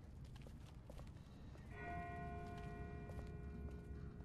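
A far-off bell rings out with a sustained, fading tone over a low murmur of ambient background, faint and distant, with a soft rhythmic clopping texture underneath.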